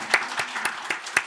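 A few distinct claps sound in a slow, even rhythm at a Friday evening church prayer meeting, five sharp hand strikes spaced apart rather than a full crowd ovation.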